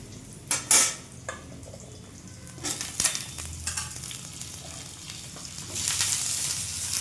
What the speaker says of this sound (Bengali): দিয়ে কুমড়ো আর আলুগুলি একটু ভাজবো, একটু হতে দেবো, ভাজবো।